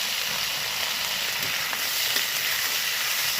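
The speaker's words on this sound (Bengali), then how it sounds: "আর নিয়েছি একটা বড় মাপের টমেটো কুচি সব একসাথে কষাতে হবে" Slit green chilies and chopped tomato sauté in a hot pan with a steady, close sizzle and faint stirring scrapes, with no voices over it.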